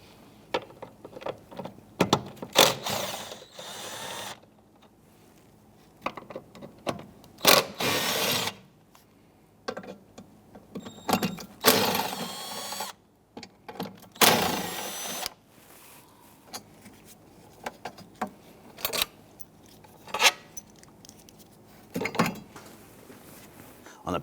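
A power tool, likely a drill or impact driver, backs out 10mm bolts from a bracket in the center cowl area of a 2011-2021 Jeep Grand Cherokee 3.6L V6, in repeated short whirring bursts of varying length, close by, with talk between them.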